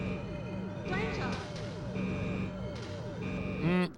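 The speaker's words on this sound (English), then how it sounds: "another game that likes to beep at me for having low health" Repeated electronic warning beeps in the arcade shooter Galaxian 3 signal low health, sounding in regular bursts among game music, effects and a talking voice.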